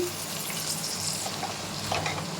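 Chicken chukka masala being stirred and fried in a pan, a continuous close sizzling hiss with faint scraping from stirring.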